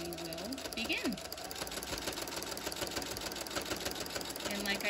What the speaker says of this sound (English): so now I am going to backstitch right here. I'm going to backstitch three times.